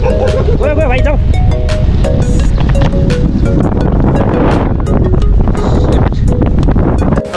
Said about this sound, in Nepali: यी के हो हावा चल्यो